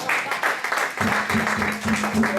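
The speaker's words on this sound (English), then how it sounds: "Clap that up" Congregation applause at a Yom Kippur service, a steady wash of many hands clapping throughout, with a faint voice or tone surfacing beneath it midway.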